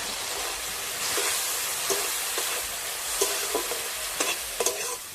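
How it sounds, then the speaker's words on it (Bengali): Tomatoes fry in a pan with chili powder and turmeric, giving a constant bright sizzle. A spoon scrapes and stirs through it at irregular intervals, close and fairly loud, with no talking. "টমেটোর সাথে লঙ্কা আর হলুদটাকে একটু কষিয়ে নিয়েছি।"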